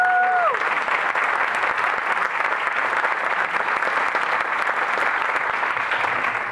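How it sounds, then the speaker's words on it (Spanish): Sustained applause from an audience honoring graduating students at a regional Bible institute graduation ceremony in North Las Vegas, steady and dense throughout, with a brief tonal sound fading at the very start. "Un fuerte aplauso a estos estudiantes."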